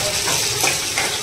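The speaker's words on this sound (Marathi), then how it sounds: "आई आता या आलं लसूण टाकलं ना." Ginger and garlic sizzle in a pan of hot oil for a Malvani spicy potato dish, giving a short, steady, close hiss with no voices.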